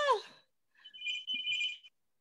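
A telephone rings indoors during a relaxed painting session, giving a bright warbling electronic tone in two short bursts after a brief voice, then stopping.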